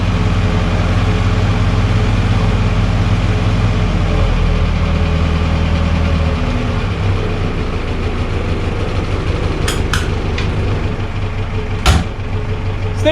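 A vehicle engine idling after a cold start, a loud, steady low rumble close by that settles slightly partway through, with a few sharp clicks near the end.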